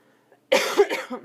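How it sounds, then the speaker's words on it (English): A single loud, close cough in a quiet room, sharp at the start with a brief rasping tail. "Oh dear, there goes a cough."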